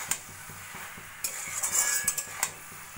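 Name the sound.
stirring cabbage with prawns cooking on low flame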